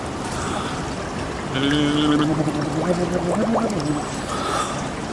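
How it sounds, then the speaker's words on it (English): Bubbly, gargling burbles of air blown out underwater, a short burst rising over a background of splashing water. "You blow bubbles in the water with your nose in the water."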